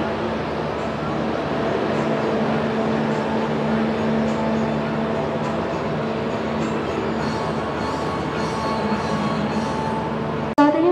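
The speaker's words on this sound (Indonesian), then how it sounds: "kereta api Jayakarta sudah masuk di stasiun Cirebon" A train rumbles steadily alongside a platform, with a constant low mechanical drone and a sharp clunk near the end.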